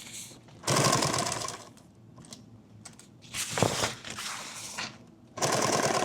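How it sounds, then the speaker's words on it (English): A sewing machine stitches around a small fabric mini kit bag in short bursts of fast, rattling whir, stopping and restarting, with quieter handling clicks and fabric shuffling in the pauses. "I'm just going to go ahead and sew right back around this."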